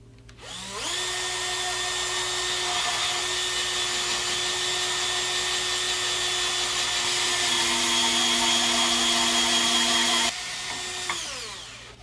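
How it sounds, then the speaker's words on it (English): A power drill bores holes in a wooden guitar body, a steady high whine running continuously for about ten seconds before spinning down, close and loud with no talk. "just drill these two holes to begin with"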